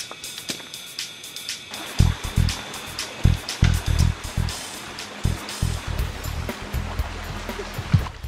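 Flowing water of a mountain creek burbles and splashes steadily at close range, with irregular louder sloshes and knocks.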